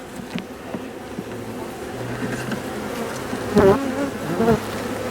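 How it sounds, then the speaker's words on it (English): Honey bees buzz steadily around an open hive during an October inspection as frames are lifted out, a continuous close drone with a few louder passes as individual bees fly near. "there's a bee right there with pollen on its leg on this frame"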